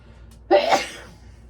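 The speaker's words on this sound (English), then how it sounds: "Oh, about to sneeze." A single sharp sneeze bursts out after a quiet pause, loud and close, then trails off into silence.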